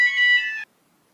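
A bright electronic phone ringtone plays for just over half a second and cuts off abruptly, leaving near silence, with no voices.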